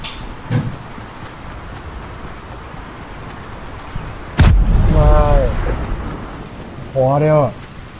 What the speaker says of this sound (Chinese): 丢那个池里面，然后爆炸，鳄鱼飞出来